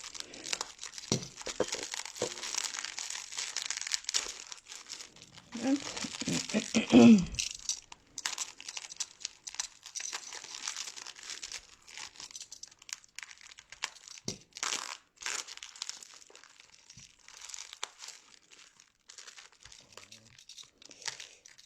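Close crinkling and rustling of bubble wrap and packing tape being pulled and torn as a parcel is unpacked, with brief soft speech in places.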